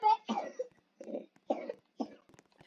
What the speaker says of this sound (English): Stop coughing in my face like that.